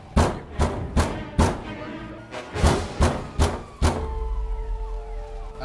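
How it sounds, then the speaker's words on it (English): Heavy, repeated thuds of banging on a door from inside a building in the GTA 5 video game, a series of loud irregular blows followed by a lower rumble. "We got banging coming from inside."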